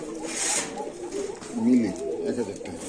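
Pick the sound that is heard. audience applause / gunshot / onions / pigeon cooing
pigeon cooing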